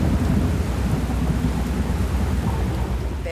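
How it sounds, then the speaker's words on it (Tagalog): Heavy rain and rumbling thunder at sea off Sorsogon during a small-boat crossing in rough waves: a dense, continuous roar of downpour with deep low rumbles, loud and steady throughout with no voices. "Sunod na bumuhos ang malakas na ulan."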